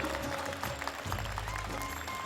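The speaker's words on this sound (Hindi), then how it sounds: "ताली जोरदार बजनी चाहिए भैया" Audience applause for the President at the Shri Ramlila committee event in Indraprastha, a dense continuous wash of clapping with crowd noise throughout, steady and fairly loud.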